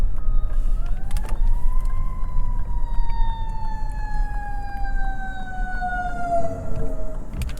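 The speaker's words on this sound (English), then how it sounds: "here comes an ambulance" An ambulance siren wails steadily, its pitch sliding slowly downward as it passes close by, loud over the rumble of a running 2023 Lexus RZ450e.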